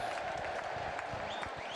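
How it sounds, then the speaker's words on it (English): A crowd applauds at a Bungay v Bungay match, with steady, dense clapping filling the short stretch at an even level. "Let's have a round of applause."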